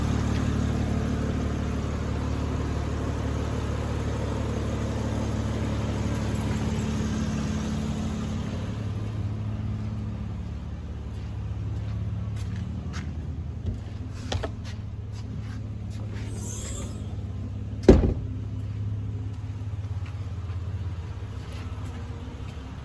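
A 2006 Nissan Quest with a 3.5-litre engine, automatic transmission and over 271,000 miles idles steadily nearby with a constant low hum, its higher tones easing partway through, and a sharp knock near the end.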